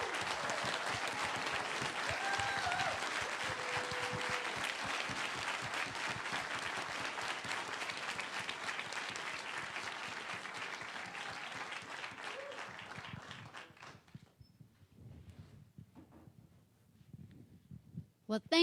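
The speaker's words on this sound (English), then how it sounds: "let's give them all a big round of applause." Sustained audience applause at a city council primary candidate forum in Asheville, a steady wash of many hands clapping that fades out near the end, leaving near-quiet room noise.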